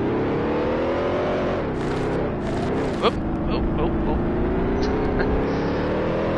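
Vintage Grand Prix racing cars from the Grand Prix Legends sim drone steadily with a continuous engine hum on a cooldown lap, and a voice talks over them.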